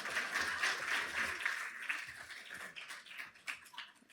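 An audience at a 2024 PFIC Network conference gives a fairly quiet round of clapping, dense at first and then thinning into scattered claps before fading.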